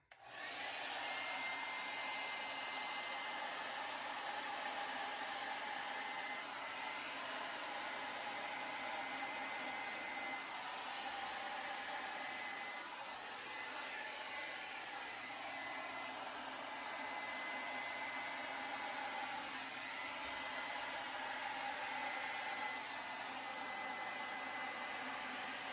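Steady, loud rush of blown air, like a hair dryer, pushed across wet acrylic paint in a pour painting, holding constant for the whole stretch with no talk.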